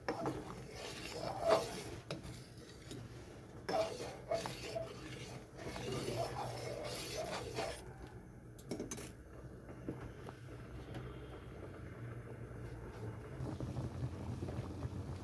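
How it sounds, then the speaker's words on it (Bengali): Gobindobhog rice is stirred in a cooking pot: soft, irregular scraping and rubbing strokes come in bursts, then quieter stretches, faint and close with low background hiss and no talk. "তো এটা নাড়তে থাকতে হবে, তা না হলে তলায় লেগে যাবে।"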